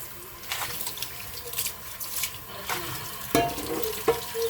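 Washing up under a running kitchen tap before frying anchovies, with a steady hiss of flowing water broken by clinks and splashes of dishes being rinsed, close by.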